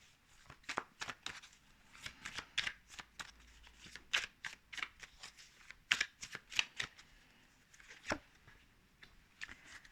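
Tarot cards being shuffled close up, a quick series of crisp riffling flutters and slaps in uneven bursts, quiet and alone with no talk.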